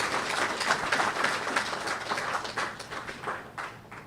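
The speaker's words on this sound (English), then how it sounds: "Give O.T.I. a round of applause" An audience at a 50th anniversary cocktail event gives a round of applause, a dense, steady wash of many hands clapping that gradually thins toward the end.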